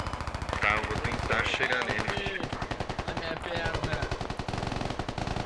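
Rapid, steady bursts of heavy tank gunfire in a video game pound without pause, with someone talking over the barrage throughout.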